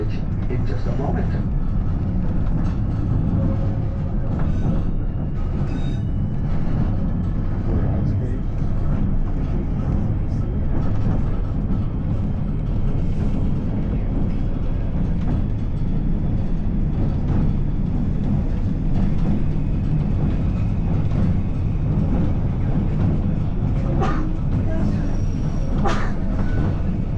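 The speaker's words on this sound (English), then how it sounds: "see the train curving over this bridge in just a moment" Continuous low rumble and rattling of a train crossing a bridge at steady speed, heard from inside, with faint voices now and then.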